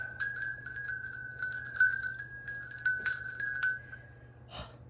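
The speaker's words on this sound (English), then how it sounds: "But this is a garland, a rope garland with bells." Rope garland strung with metal bells shaken in clustered jingling bursts, bright and ringing, with a brief softer rustle near the end; no talking over it.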